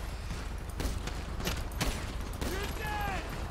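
Gunfire in the video game GTA V, with a few sharp shots cracking close amid a steady background of game noise and clatter, along with some faint voice-like tones near the end.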